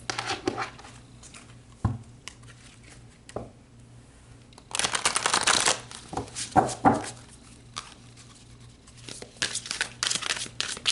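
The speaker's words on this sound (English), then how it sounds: "Let's pull some more cards." Tarot cards being shuffled by hand, papery riffles and crinkly handling in several bursts with quiet gaps, close and fairly soft, with a steady low hum underneath.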